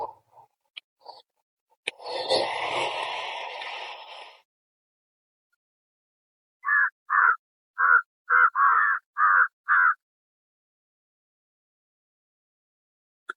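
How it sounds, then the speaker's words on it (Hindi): A rush of noise opens the clip by a river, then a crow gives a rapid series of about seven loud, clipped caws in steady rhythm. "दो कौवे फिर से।"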